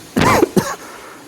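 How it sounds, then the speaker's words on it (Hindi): A single harsh cough with a short rasping follow-up, loud and close, from a person in a quiet room, then near silence. "इसलिए मुझे खांसी आ गई थी"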